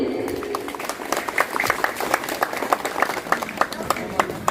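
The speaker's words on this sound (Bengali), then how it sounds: "তার জন্য একটা জোরে হাততালি হবে নি" An audience at a community gathering in Kaliyaganj claps loudly and continuously, the applause building after a brief moment and staying strong to the end.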